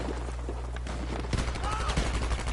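Machine gun fire in a first-person shooter match, rapid bursts of shots rattling under a low engine-like drone, with players talking over it.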